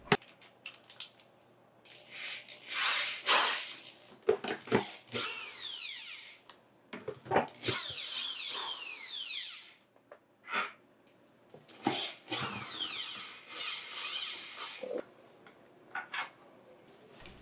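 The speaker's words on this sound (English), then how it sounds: "So we'll just plug in the drill and we'll get the right size bit and we can get started on removing them." Power drill used to remove screws holding the cushions on cane chairs during a furniture makeover, with repeated short whirring bursts and pauses, close up and fairly quiet, with no talking.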